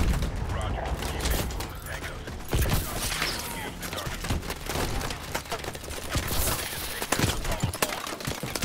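Rapid gunfire in the futuristic shooter Call of Duty: Advanced Warfare. Crackling shots and bursts repeat steadily over a busy, loud battle bed, with game voices mixed in.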